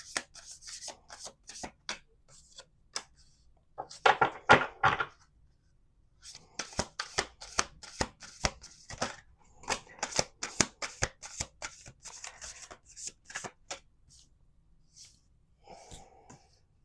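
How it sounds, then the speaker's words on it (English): Oracle cards being shuffled by hand, a series of quick crisp riffling and snapping bursts with short pauses between shuffles, close and fairly quiet with no talking. "Let's do 2 more shuffles."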